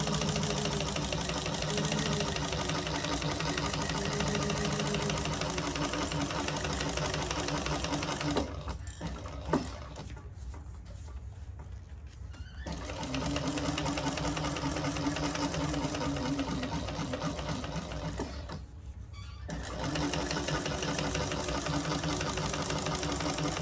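Sewing machine running long top-stitching passes along a carry-all bag, a steady mechanical whirr that stops twice in short pauses before starting again, close and without talk.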